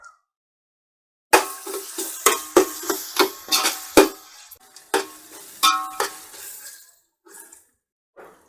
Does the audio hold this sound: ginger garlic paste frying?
yes